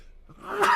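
A single short sneeze, close and fairly loud, ending in a sharp burst after a brief intake of breath.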